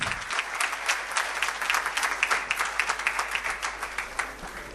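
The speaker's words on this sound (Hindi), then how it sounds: "कृपया जोरदार तालियों से स्वागत किया जाए एक बार" An audience in Houston gives loud, lively applause to welcome a guest, with many hands clapping in a dense, continuous stream, close and steady throughout with no talk over it.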